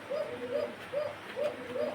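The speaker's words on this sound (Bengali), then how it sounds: "দেখেন একজোড়া কবুতর আছে এখানে" A pair of pigeons, a male and a female that have already laid an egg, coo softly and close by in a steady rhythm of five short repeated calls.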